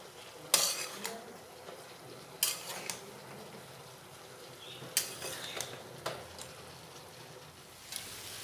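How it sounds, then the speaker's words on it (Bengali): Ridge gourd pieces coated in turmeric fry in a pan. A faint, low sizzle runs underneath while a spoon scrapes and clinks against the pan in several distinct bursts. "এবার হলুদের সাথে ঝিঙাগুলো খুব ভালোভাবে মিশিয়ে নেব।"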